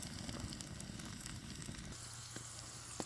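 Fries sizzle in hot oil in a frying pan, a steady close crackling hiss with occasional pops and no talking.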